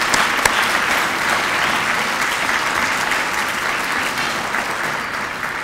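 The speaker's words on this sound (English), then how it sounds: "Please give a round of applause for our sponsors" Sustained applause from a convention awards dinner audience honoring sponsors, a dense steady patter of many hands at even loudness throughout, with no talking over it.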